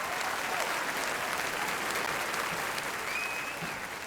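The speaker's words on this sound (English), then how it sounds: "So can we get a warm round of applause for Bird in Hand?" Applause from a large audience at the 2023 ARIA Awards, a dense, steady roar of clapping that fills the whole stretch at an even level.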